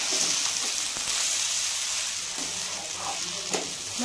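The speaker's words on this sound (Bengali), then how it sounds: "কষাতে হবে, ভালো করে কষিয়ে নিতে লাগবে এই চালটাকে।" Rice sizzles and is stirred in a hot pan while being fried for Bengali basanti pulao, a steady crackling hiss with scraping stir strokes, close and fairly quiet, with no talking.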